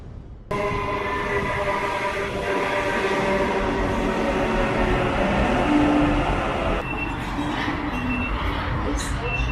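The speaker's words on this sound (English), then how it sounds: "Back on the tram." A tram rolls steadily along its rails, with a constant rumbling and clattering ride noise, faint squeals and a brief tonal whine, while voices chatter faintly inside the car.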